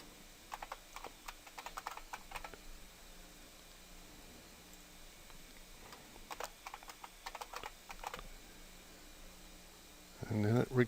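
Computer keyboard keys typed in short bursts of quick clicks, with pauses between, while entering a computer name during a Windows 7 install in VirtualBox; a louder clatter of keystrokes comes at the end.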